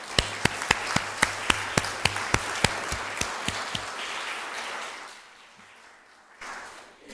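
Audience applause at a St. Coletta family weekend presentation honoring a guest, with a steady series of sharp, evenly spaced claps up close over a softer crowd wash, thinning out after about four seconds.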